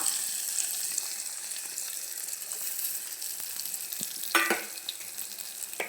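A spoon stirs mango pieces for a traditional mango pickle with red chili and asafoetida, making soft continuous wet scraping and rustling with a brief louder scrape near the end.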